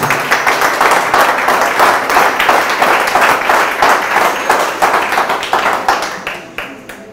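A church congregation claps for the Lord in loud, dense, sustained applause with sharp overlapping claps, tapering off toward the end.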